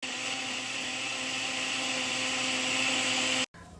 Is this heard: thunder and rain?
no